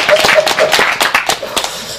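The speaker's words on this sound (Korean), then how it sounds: "이런 데는 박수를 쳐야지." An audience at a civic association's founding assembly breaks into brief, fairly close applause, a quick scatter of sharp claps that thins out over a couple of seconds, with a few voices mixed in.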